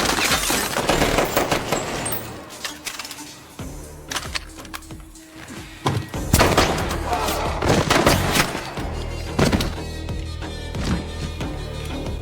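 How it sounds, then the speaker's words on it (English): A violent gunfight in the action film Wolves: sharp bursts of gunfire, heavy booms and shattering cracks come in loud, irregular clusters over a dense, rumbling soundtrack, with no clear talk. "Clearly, the gunfight just now had been extremely brutal"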